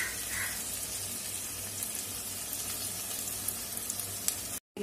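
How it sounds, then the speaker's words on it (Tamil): Water boiling vigorously in a pot on the stove while cooking wheat upma, a dense, continuous bubbling hiss that holds steady and close, then cuts out briefly at the end. "தண்ணி பாருங்க தண்ணி நல்லா கொதிச்சிருச்சு."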